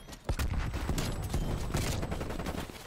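Gunfire in the Black Ops Cold War video game, a rapid burst of sharp shots with distinct cracks spread across a few seconds over steady background noise.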